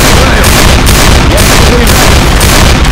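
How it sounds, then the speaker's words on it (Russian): A Molotov cocktail bursts in Left 4 Dead 2 amid dense, very loud in-game combat, a continuous roar of fire, gunshots and booming explosions with no pause. "Бросаю коктейль Молотова!"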